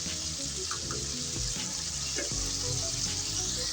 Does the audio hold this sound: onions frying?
yes